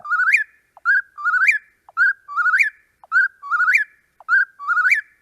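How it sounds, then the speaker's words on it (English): Eastern whip-poor-will in a woodland setting, singing its three-part whistled phrase over and over in a steady rhythm, clear and fairly close with silence between calls. "that whippoorwill sound there"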